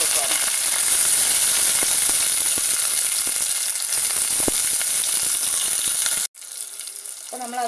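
Crushed ginger, garlic, shallots and pepper sizzle loudly in a hot pan for a Kerala tuna fish curry, a steady dense frying hiss that cuts off abruptly near the end.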